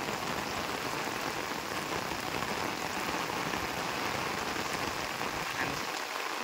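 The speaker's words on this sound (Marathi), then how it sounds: "जोरात पाऊस आलाय" Heavy rain pours onto a Konkan rice paddy field during transplanting, a dense, continuous hiss of drops close by, steady and alone for the whole stretch.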